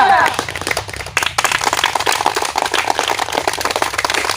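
Audience clapping and applause at a comedy skit, a dense burst of many hands that carries on steadily after a brief lull, with a voice briefly audible at the start.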